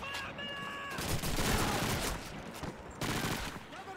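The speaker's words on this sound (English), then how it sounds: "Almost shot fucking Volsky" Dense rifle and machine-gun fire in the Call of Duty 2 Stalingrad campaign comes in two loud, sustained bursts of rapid shots, with a voice briefly heard over the battle.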